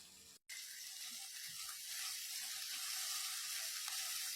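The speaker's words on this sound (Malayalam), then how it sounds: "ഇനി ഈ എണ്ണയിലേക്ക് നമുക്ക് 4 മീഡിയം സൈസ് സവാള സ്ലൈസ് ചെയ്തത് ഇട്ട് കൊടുക്കാം." Four medium sliced onions go into hot oil for a Kerala-style egg biryani; after a brief silent gap, a steady, even frying hiss settles in and continues quietly without any talk.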